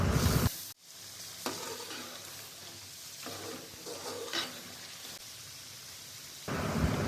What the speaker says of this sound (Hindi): अब इसकी अच्छी तरह से भुनाई करेंगे।